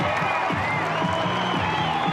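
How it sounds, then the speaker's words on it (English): Spectators at a men's hockey Champions Trophy match in Melbourne, Australia versus Pakistan, roar and cheer after a goal, a steady wash of crowd noise with commentary voices over it. "He scores! The crowd rises!"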